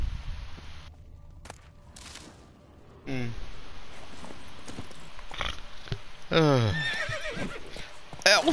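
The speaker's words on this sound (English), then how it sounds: "Fuck off, you dumbass horse." Roach the horse from The Witcher 3 whinnies loudly, with a rising neigh near the end, over steady hoof clip-clop and game ambience, and someone talks over part of it.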